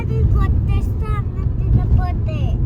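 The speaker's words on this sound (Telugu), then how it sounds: "traffic jam, signals" Steady low rumble of congested city road traffic at signals in India, heard from within the flow and running continuously beneath a person talking.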